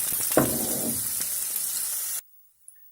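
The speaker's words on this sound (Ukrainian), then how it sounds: "На сковорідку я налила рослинну олію і відправляю цибулю смажитися" Onion fries in vegetable oil in a pan, crackling and sizzling steadily with a close, bright hiss and a brief clatter, then it cuts to near silence.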